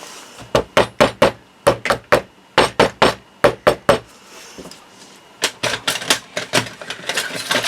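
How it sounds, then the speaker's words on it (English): A hammer flattens the legs of metal brads while binding a large folio book, in sharp, quick strikes. Groups of three or four bangs are followed by a pause, then a longer, faster run of blows. "I am going to get my hammer out in a minute and just hammer them flat."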